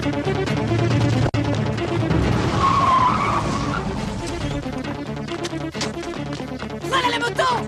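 Motorcycle skidding in a 1987 Troma film scene, a loud, sustained tire scrape with engine roar that swells and fades over several seconds, with a sharp knock early on and a brief voice near the end.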